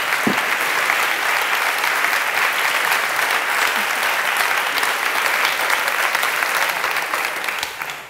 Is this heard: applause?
yes